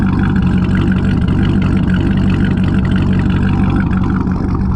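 A C6 Corvette Z06 on its stock cam fills the sound with a loud, steady, deep engine roar that holds dense and unbroken from start to finish, with no talk.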